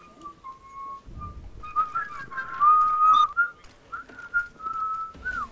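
Someone whistles a wandering tune during a CS:GO match, several sustained notes and quick warbles rising over faint game noise, with a few short breaks between phrases.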